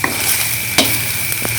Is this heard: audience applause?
no